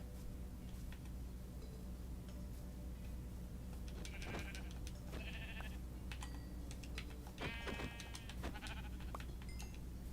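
Sheep in Minecraft bleating several times in short, bright calls against a low background hum and quiet clicking of keys, with a loose, irregular rhythm.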